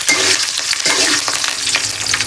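Garlic frying in hot oil in a pan, a loud close crackling sizzle with stirring scrapes, continuous throughout and no talk.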